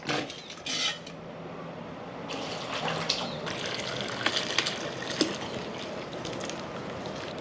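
Hot beef broth for bulalo scooped with a small basin and poured between pots, with splashing, pouring liquid and clattering metal throughout, close and fairly steady.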